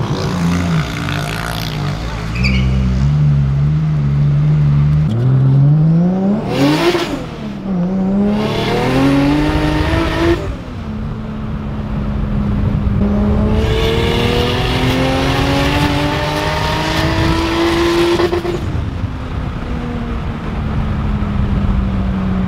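Toyota Supra accelerating hard from inside, the engine note climbing through several sharp rising gear pulls with brief shift breaks, loud and continuous throughout.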